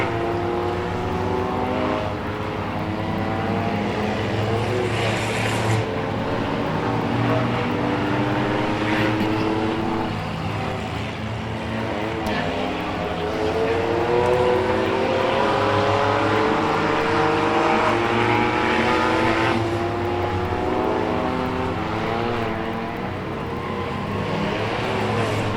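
Race cars roar steadily around a track during a late-lap feature race, engines loud and continuous with rising and falling pitch as cars pass in traffic.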